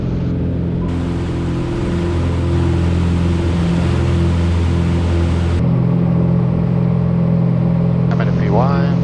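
From inside a small aircraft's cockpit, the engine drones loud and close through the takeoff roll, a steady rumbling hum with strong low tones that shift pitch partway through, and a chirping sound near the end.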